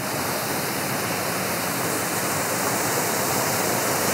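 A waterfall in a tropical rainforest greenhouse makes a steady, loud, close rushing roar that stays unchanged for the whole four seconds, with no voices.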